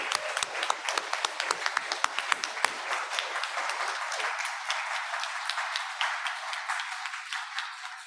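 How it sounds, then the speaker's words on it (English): A live audience applauds at the end of a performance, sharp individual claps near the start thinning into a lighter scattered patter that gradually fades. "One more round of applause for Leanne and Brian."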